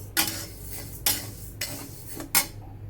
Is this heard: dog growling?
no